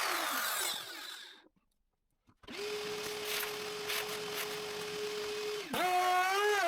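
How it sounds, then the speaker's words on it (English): A wood router with a bearing-guided bit whines at a steady high pitch while trimming a wooden bowl against a template, loud and close, after a brief silence; it spins down near the end. "Finally, time to use the router."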